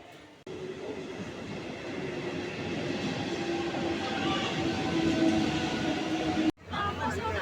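A crowded morning passenger train at a railway station near Nabadwip, with steady rumbling rail noise and a sustained metallic tone that continue for several seconds before a sharp cutoff and a brief resumption.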